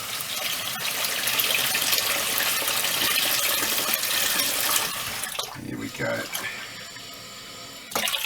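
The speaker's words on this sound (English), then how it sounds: "I'm just going to run that water a bit so it's a little bit warmer" A kitchen tap runs at full flow, rushing loudly and steadily into the sink while water is warmed for focaccia dough. It eases off with short splashes near the end, and a voice speaks briefly over it.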